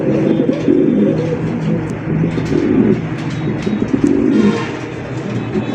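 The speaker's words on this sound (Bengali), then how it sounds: "মাশাআল্লাহ একটা ব্ল্যাক কালার ডেনিশ কবুতর দেখতে পাচ্ছেন" Black Danish and racer pigeons at a pigeon market coo steadily and close by, their soft overlapping calls forming a continuous murmur over a low background hum, with no talking.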